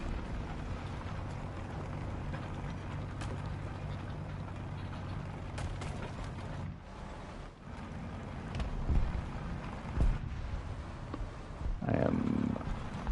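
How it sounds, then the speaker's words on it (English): A Leopard tank engine idles in the War Thunder video game as a steady low rumble under wind-like noise. Brief thumps and a short muffled voice come near the end. "That is such a distinct engine sound."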